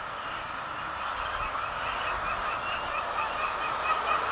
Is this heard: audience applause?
no